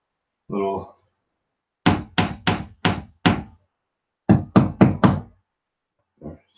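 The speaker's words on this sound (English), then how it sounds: "It's late at night and I'm hammering." Hammering late at night: two series of sharp, evenly spaced blows, five then four, close and loud, with brief talk before and after.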